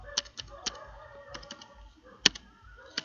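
Keys clack on a computer keyboard while a network configuration command is entered, with irregular, separate taps and a sharper strike near the end, close and fairly quiet.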